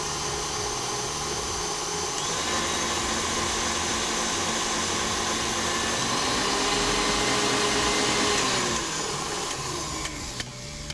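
A stand mixer whisking pavlova meringue runs as a steady, loud motor whir with a whining hum throughout, briefly rising in pitch near the end, no talk.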